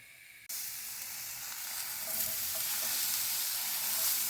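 Mushrooms hit a lightly oiled hot pan with a sudden sizzle, then a steady, bright frying hiss continues, growing slightly louder.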